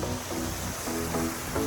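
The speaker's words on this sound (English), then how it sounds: "this is a waterfall" Waterfall in the Mourne Mountains of Ireland pours as a steady, dense rush of falling water, close and continuous across the short stretch, with no talk over it.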